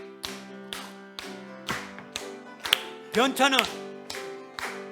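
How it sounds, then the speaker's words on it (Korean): A church congregation claps in a steady regular beat while singing hymn 270 at a Sunday afternoon service, sharp claps recurring about twice a second under sustained sung melody. "박수 치면서"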